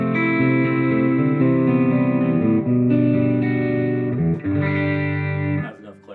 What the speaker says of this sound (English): It's more one of those like in between kind of distortion pedals.